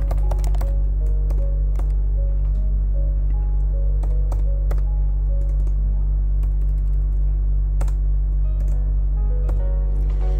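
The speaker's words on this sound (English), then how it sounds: "Let's type down the given first." Keys clatter in quick irregular bursts on a computer keyboard during physics homework, the clicks close and distinct over a constant low electrical hum.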